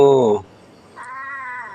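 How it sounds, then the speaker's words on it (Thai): Cats at Wat Pong Chai temple in Chae Hom, Lampang let out two clear meows close by, a short loud one followed after a brief pause by a longer, higher-pitched cry. "น้องแมวเหมียวนั่งเล่นนอนเล่นกันตรงนี้เฮ้"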